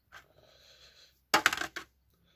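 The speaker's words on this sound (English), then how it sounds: "So I'm going to roll dice." Dice rolled onto a tabletop during a tabletop miniatures wargame session, a brief clattering tumble of hard small objects lasting about half a second, close and fairly quiet.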